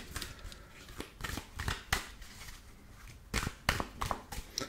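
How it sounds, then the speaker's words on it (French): Tarot cards are shuffled and drawn close by in a quiet setting, giving repeated soft riffling and snapping bursts in an irregular rhythm. "Et je vais tout de suite commencer avec le tirage du tarot. Et je vais tirer 3 cartes."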